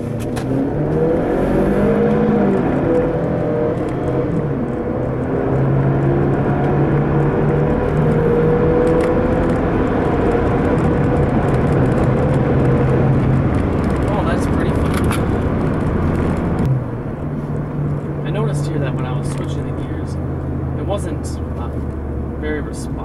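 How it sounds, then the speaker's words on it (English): A 2013 Ford Escape EcoBoost accelerating in sport mode, a steady rising engine drone heard from inside the cabin, with a brief drop where the gear changes, under a voice talking throughout. "I kind of want to test the acceleration of this EcoBoost."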